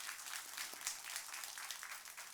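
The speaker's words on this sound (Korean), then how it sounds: "우리 박수 한번 해야 되지 않겠습니까?" A church congregation applauds during a Sunday service, a soft, distant patter of many hands clapping steadily for a couple of seconds.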